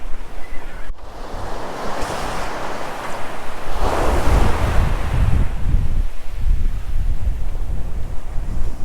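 Ocean waves break and surge close by in a loud, rushing wash, swelling and receding over several seconds with wind buffeting the microphone throughout.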